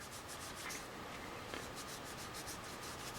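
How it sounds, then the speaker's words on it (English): Hands rub tung oil into a bushcraft knife handle, producing a steady, close, soft friction hiss with faint rhythmic strokes and no talking. "You just polish that stuff on there, just take your hands and rub it right in"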